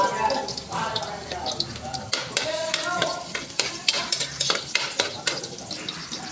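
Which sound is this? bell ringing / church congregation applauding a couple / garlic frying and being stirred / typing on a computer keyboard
garlic frying and being stirred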